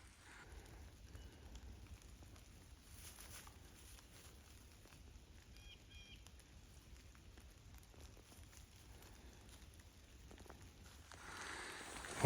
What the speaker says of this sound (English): Nice gentle rain.